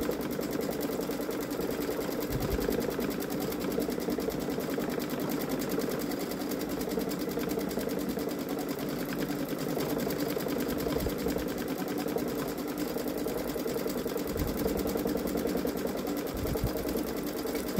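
A Babylock Solaris sewing machine runs steadily, stitching an edge-to-edge quilt in a long, even mechanical whir with a rapid repetitive needle rhythm, continuous and close, with no talk.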